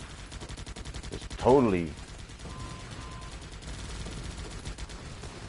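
Steady rattling gunfire from many guns in a base-defence shooter game, a continuous dense barrage under a voice, with one louder rising swell partway through.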